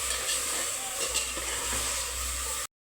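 A chicken biryani masala mixture with rock salt and clove paste bubbles and sizzles in a pot, a steady close simmering hiss and crackle that cuts off abruptly.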